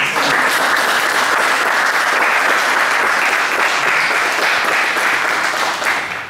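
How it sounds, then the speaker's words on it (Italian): Audience applause at an anti-mafia music event, a dense, even wash of clapping from a crowd that stays loud and steady throughout. "a cui chiedo di fare subito un applauso"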